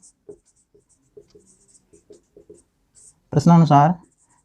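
Pen or pencil scratches on paper while working a class 10 maths problem, heard as a run of small, faint, close taps and strokes, followed by a short burst of a man's speech.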